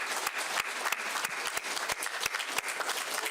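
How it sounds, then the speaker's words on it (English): Audience applause for Shower Power representatives at a press briefing, a crowd clapping steadily with some sharper individual claps standing out near the listener. "if y'all could please stand so that we can give you a round of applause for the great work that you've been doing."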